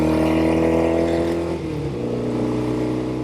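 A fully restored 1972 Norton 750 Commando Combat motorcycle engine holds high revs in a steady, smooth drone, loud and close, with no talking over it and only a slight change in pitch partway through.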